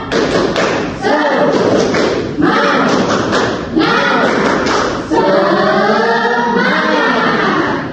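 A classroom of students performs the rhythmic 'tepuk semangat' spirit clap in bursts of loud, close, patterned claps and thumps, with children's voices chanting along throughout.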